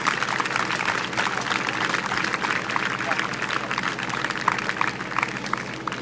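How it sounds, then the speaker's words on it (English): An audience at a Relay for Life gathering keeps up dense, continuous applause for several seconds, with scattered crowd noise mixed into the clapping. "So please join me in giving a big round of applause to the North Shore Relay for Life chair people"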